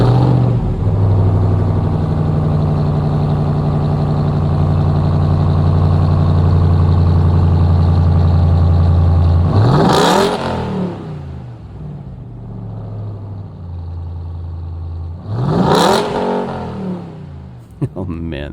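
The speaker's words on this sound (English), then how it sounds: "Do you guys want to hear that burly truck one more time?" A Ram TRX pickup's engine idles with a deep, loud, steady rumble, then revs sharply twice in quick surges that fall back to idle.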